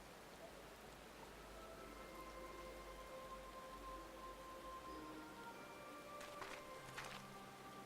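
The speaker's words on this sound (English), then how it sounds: "I like how it's raining." Steady rain falling in the Final Fantasy XIV video game, a soft continuous hiss of raindrops with faint tonal music lines beneath and a few brighter splashy bursts near the end.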